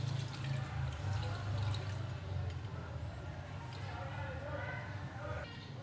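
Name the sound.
water poured into cooking pot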